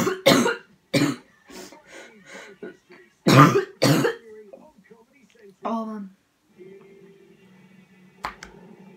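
Several sharp, loud coughs burst out close up, mixed with a person talking between them.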